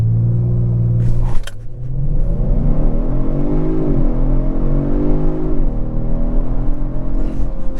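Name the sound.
Kia Stinger GT2 AWD launch control acceleration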